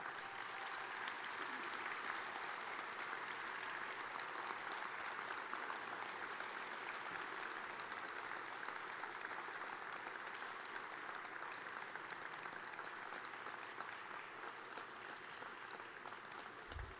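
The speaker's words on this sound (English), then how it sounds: "Let's give them a nice round of applause," A crowd at a university athletics hall of fame ceremony claps in a long, even round of applause, a steady wash of hand claps lasting the full stretch, heard from some distance and fairly quiet.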